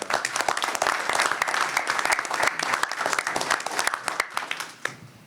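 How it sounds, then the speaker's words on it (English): A committee meeting audience gives a round of applause for student debaters: dense, steady clapping from many hands that thins slightly toward the end. "I think that all of you deserve a round of applause for the work you're doing"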